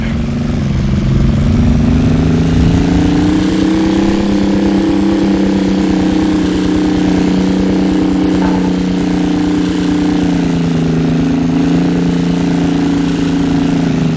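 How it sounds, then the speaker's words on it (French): A UH-114 Falcon helicopter taking off in Halo, a loud steady engine drone with a low hum that rises slightly and holds, continuous for the whole stretch. "Ici Québec 45, décollage du UH-114 Falcon."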